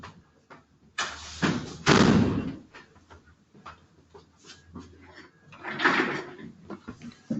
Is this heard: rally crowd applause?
no